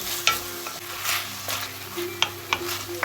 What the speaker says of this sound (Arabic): راح اخلي البصل هذا الشكل واحمسه بنفس الزيت